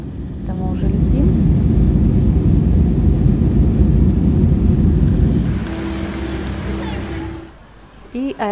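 Steady airplane cabin noise during flight, a loud low roar and rushing hum filling the background, easing slightly near the end where brief voices and a few clicks break in.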